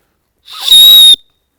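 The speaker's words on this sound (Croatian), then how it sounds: "ima još jedan ugrađen gadget za slučaj da se izgubite ili da se hoćete javiti nekome, odnosno dozvati nekoga, a to je zviždaljka" A small safety whistle built into a Fjällräven Singi Stubben backpack strap gives one short, piercing, very loud blast up close, heard alone.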